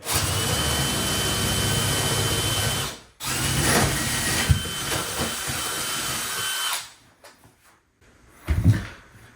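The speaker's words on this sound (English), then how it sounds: "get this hole bored through the bottom plate" A power drill bores a hole through the wooden bottom plate of a wall in an older mobile home. It whirs loudly in two long runs, drops into near silence, then gives one short closing burst.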